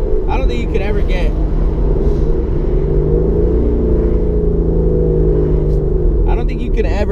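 A 2016 Ford Mustang GT with a Corsa Xtreme exhaust, its engine giving a loud, continuous low rumble under someone talking throughout.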